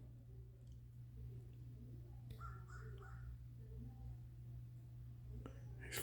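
A big blackbird feeding on bread outdoors gives a few harsh caws, faint and some way off, over a steady low hum.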